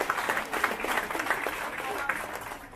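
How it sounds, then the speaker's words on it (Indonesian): An outdoor crowd at a dam inauguration ceremony in Jatigede, Sumedang, applauds for the governor with continuous, moderately loud clapping, while an announcer's voice carries over the applause. "Tepuk tangan untuk Pak Gubernur."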